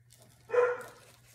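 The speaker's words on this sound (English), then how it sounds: "Bailey is barking." A single short dog bark at moderate distance, muffled, over a low steady hum, with quiet room sound before and after.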